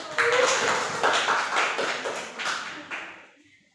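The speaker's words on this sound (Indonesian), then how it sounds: "Tepuk tangan untuk kelompok 1." A group in a micro-teaching classroom session applauds with brisk, overlapping claps that gradually fade away at the end.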